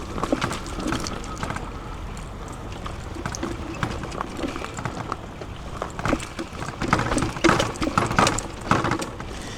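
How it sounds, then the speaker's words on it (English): A rattling rear fender on a fat-tire, full-suspension budget hunting e-bike, the Puckipuppy Boxer ST, while cruising over rough ground; a steady busy clatter of loose knocks runs throughout, growing sharper and louder near the end. "I think that noise I'm hearing is that rear fender, because those support arms are not super sturdy."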